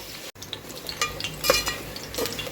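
Spices, green chillies, garam masala and coriander sizzle in hot oil, stirred with light scraping clicks over a steady crackling hiss, close and continuous.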